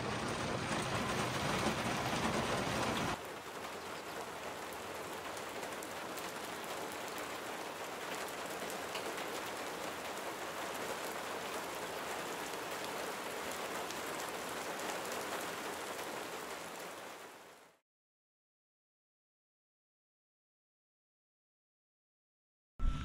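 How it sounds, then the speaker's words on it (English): Steady rain mixed with light hail drums on the roof of an Airstream Rangeline camper parked overnight in the California desert, a dense continuous patter that fills the first seventeen seconds and then cuts off. "it just started raining, and it's actually hailing on us a little bit"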